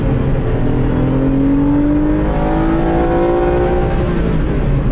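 Loud, sustained engine roar from inside a Renault Clio V6 under acceleration, the note climbing steadily in pitch with no speech over it.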